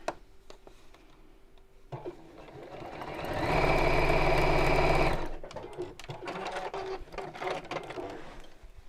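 A sewing machine stitches a neckband in one steady, loud whirring run of a couple of seconds that rises and fades, with quieter handling noise before and after.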